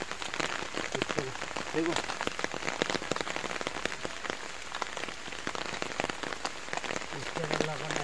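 Heavy rain pours down on a supari (areca nut) farm, a dense, steady hiss of drops drumming on surfaces close by, with someone talking over it.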